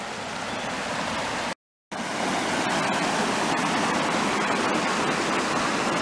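A gold-panning creek rushes and gurgles in a steady, loud broadband wash, with one brief cut to silence early on.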